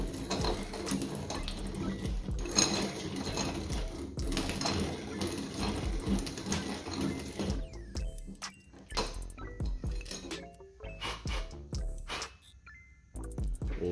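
Grinding on a part while forged pistons go into a 2005 Ford Focus ST engine, a dense rough buzz for about eight seconds before it winds down into scattered clinks and taps.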